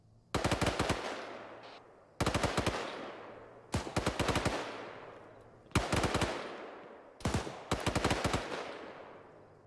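Video game gunfire in four separate bursts of rapid, loud shots, each ringing out and decaying before the next, with short quiet gaps between them.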